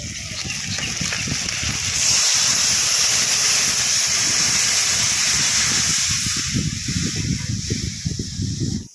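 Boiled tamarind-leaf sour broth hits hot oil in a pan, erupting into a loud, steady, close hiss and sizzle that holds for several seconds, with bubbling underneath, easing slightly near the end.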